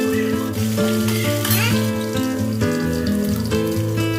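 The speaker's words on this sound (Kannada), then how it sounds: "ಅದೊಂದು ಸ್ವಲ್ಪ ಫ್ರೈ ಆಗ್ತಿದ್ದಂಗೆ ಸಾಸಿವೆ, ಜೀರಿಗೆ, ಇಂಗು, ಕರಿಬೇವು, ಹಸಿಮೆಣಸಿನ್ಕಾಯಿ ಮತ್ತು ಈರುಳ್ಳಿನ ಹಾಕ್ಕೊಳ್ತೀನಿ" Onions, green chilies, curry leaves and mustard seeds sizzle and crackle steadily in hot oil, a close, continuous frying hiss that runs alone throughout with strong tonal music layered over it.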